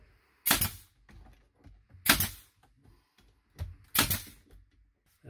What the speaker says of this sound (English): I'm also going to take this nail gun on the inside and put a couple of them on the inside, holding that main plate down.